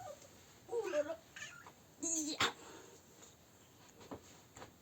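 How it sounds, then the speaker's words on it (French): A pet house cat meows indoors in a few short, close, moderately loud calls spread across several seconds, with faint background noise between them. "Oh, mon chat."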